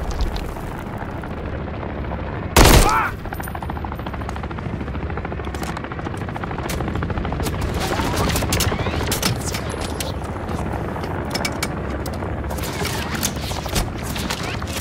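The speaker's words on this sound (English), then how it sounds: "Found an RPG. That'll bring the helo down." In the Call of Duty Modern Warfare 3 game, a helicopter's loud rotor roar drones steadily while bursts of automatic gunfire crackle over it, with one sharp blast early on.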